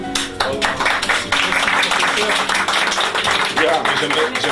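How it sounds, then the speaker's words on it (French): Audience applause at a café-debate talk on knee pain, a dense, steady clatter of many hands clapping close by, filling the whole moment without a break. "On va vous applaudir et on va te redonner le micro."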